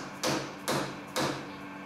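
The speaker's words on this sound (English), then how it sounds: "I'll give this a little bit of a tap with a dead blow hammer just to make sure that it's up tight against the face" Three sharp taps from a dead blow hammer striking an aluminum slug held in a three-jaw lathe chuck, evenly spaced, close and fairly loud, each a short broadband knock with a brief ring.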